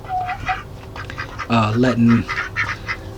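Ducks quack in a short loud burst at a winter homestead coop, heard close among faint bird calls while a person talks.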